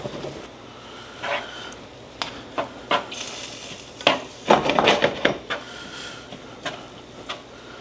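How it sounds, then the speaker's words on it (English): Fat and moisture are drained from a pan of browned ground beef: scattered clinks and scrapes of a utensil against the pan, with bursts of clatter and a soft sizzle underneath, close and fairly loud, no talk. "The ground beef is almost totally done, and it's given up a lot of the moisture and the fat, and all I'm going to do now is just drain it off"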